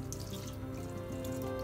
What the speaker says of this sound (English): Just rinse them with the mix hot water and cold water and just rinse them.